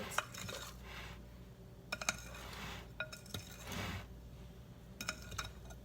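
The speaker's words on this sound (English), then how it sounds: "Now I'm just gonna take my fork and kind of mix it up, get it off the sides." A fork stirs cookie dough and egg in a bowl in a home kitchen, giving faint, scattered clinks and scrapes against the bowl. Quiet stretches separate small clusters of sharper taps.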